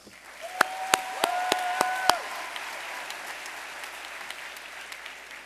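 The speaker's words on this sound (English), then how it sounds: "Let's give them another round of applause." Scattered applause from a crowd at an education awards ceremony, sharp individual claps over a steady murmur, with a brief rising whistle-like tone in the middle.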